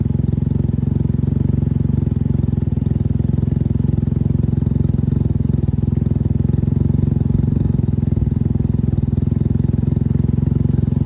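Can-Am Ryker engine fitted with an RLS carbon exhaust, held at a loud, steady high-rev roar, close and unbroken with no talk over it.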